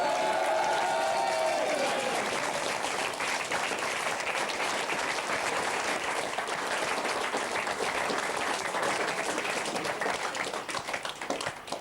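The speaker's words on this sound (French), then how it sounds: "On applaudit de façon spontanée maintenant." A live studio audience bursts into spontaneous applause, a dense sustained wash of clapping that holds steady for several seconds before thinning slightly at the end, with a few voices faintly audible at the start.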